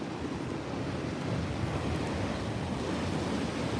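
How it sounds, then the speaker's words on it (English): Coastal water rushing over rocks at Fingal, a dense steady roar of surf and churning water with wind noise on the microphone, fairly loud and continuous with no one speaking. "Look how much water's running over those rocks"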